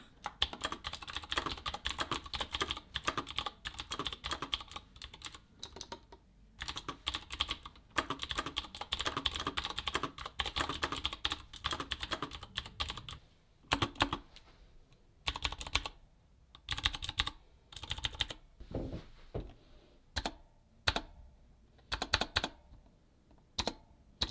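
Clicky IQUNIX L80 mechanical keyboard with Cherry blue switches typing, close and loud, in quick uneven bursts that thin out into scattered keystrokes with short pauses toward the end.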